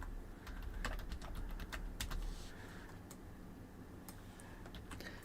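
Computer keyboard being typed on with irregular bursts of clicking keystrokes, quiet and somewhat distant, with pauses between runs and no talking.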